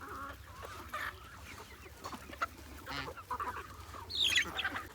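A backyard flock of a rooster and hens calls faintly, with repeated clucks and a crow, over a steady low background hum.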